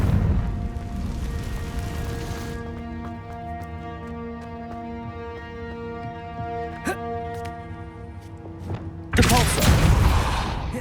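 Confringo fire spells from Hogwarts Legacy burst out as loud noisy blasts at the start and again near the end, with a tonal humming drone ringing out in between.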